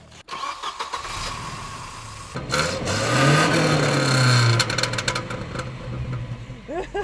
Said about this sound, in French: La voiture redémarre.